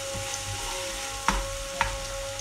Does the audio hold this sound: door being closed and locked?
no